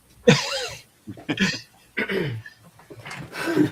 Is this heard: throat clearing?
yes